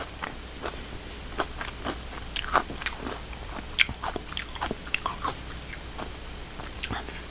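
Crisp bites and crunchy chewing of cheesy fried chicken dipped in cheese sauce, close-up, a series of sharp irregular crunches over a quiet background.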